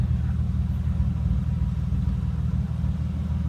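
A modified 1995 BMW M3 coupe engine runs steadily up close, heard from the rear, a deep, continuous rumble with no voices over it.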